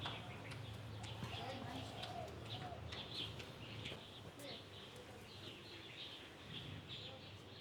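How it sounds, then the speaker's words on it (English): Birds chirping and pigeons cooing on a cloudy day in a Chinese city, bright calls repeating over a steady street hum with pavement cleaning and faint voices in the background. "Birds were chirping."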